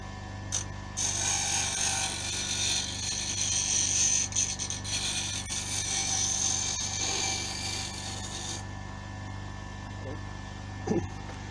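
A lathe tool is held against a fine grinding wheel, giving a steady whirring grind with scraping bursts over the motor's hum, close up, and the clip ends with a couple of soft knocks.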